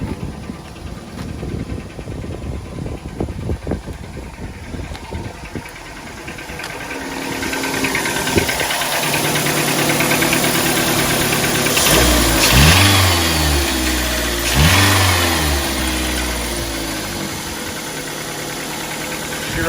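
A Dodge Neon engine, just after a valve cover gasket replacement and burning off spilled oil, idles with a rough mechanical clatter before being revved in several rising and falling sweeps, close up.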